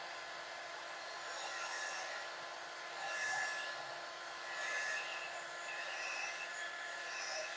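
A hair dryer blows steadily to dry a transfer on a Christmas tiered tray, a close, continuous whooshing drone that swells slightly as it is moved, with no talking.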